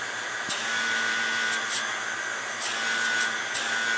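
A steady mechanical whine and hum from a running engine vacuum pump on a Land Rover Tdi, with a few faint clicks and ticks over the continuous drone.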